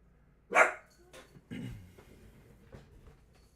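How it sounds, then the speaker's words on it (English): A dog gives a sharp, loud bark, followed by a few quieter, scattered barks and rumbles against a faint background hum. "That dog had so much to say."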